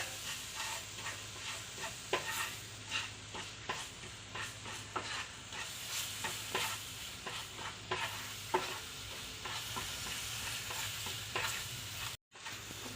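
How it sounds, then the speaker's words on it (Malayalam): A spoon scrapes and stirs steadily through melting sugar in a hot pan, rhythmic strokes over a soft sizzle, continuing for several seconds before a brief gap. "പഞ്ചസാര ചേർത്ത് കൊടുത്തതിന് ശേഷം നല്ലതുപോലെ ഇളക്കി കൊടുക്കുക"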